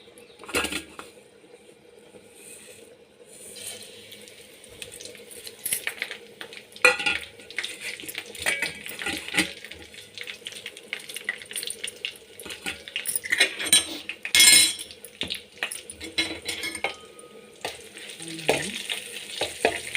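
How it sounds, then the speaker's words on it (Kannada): Crushed garlic, mustard seeds, turmeric and curry leaves sizzle in hot oil for a tempering, with crackling bursts, a spoon stirring and scraping the pan, and occasional clinks of utensils. "ಎಣ್ಣೆ ಕಾದ ಮೇಲೆ ಇದಕ್ಕೆ ಜಜ್ಜಿರುವ ಒಂದು ಎರಡು ಬೆಳ್ಳುಳ್ಳಿ ಸಾಸಿವೆ ಅರಿಶಿನ ಕರಿಬೇವು"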